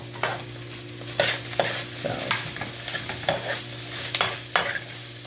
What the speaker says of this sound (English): gonna keep stirring that around